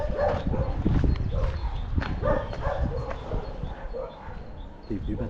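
Dogs at an animal shelter bark repeatedly in a dense, overlapping chorus at mid distance, with people talking throughout.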